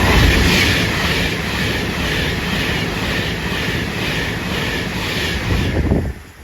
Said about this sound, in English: we've got a Pendolino who's going to bolt through the station